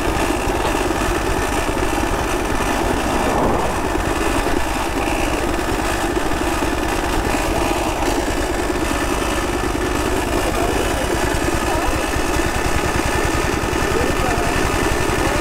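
A 1901 Royal Enfield Quadricycle engine runs steadily throughout with a dense, rapid mechanical chatter close by, its rhythm holding an even pace without pauses.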